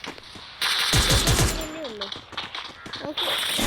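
Rapid bursts of video game gunfire crack in a quick volley, followed by sharper single shots and game effects, loud and up front.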